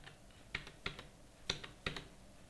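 A handful of sparse, quiet keystrokes on a computer keyboard, four or five distinct clicks spread across a couple of seconds in a still room.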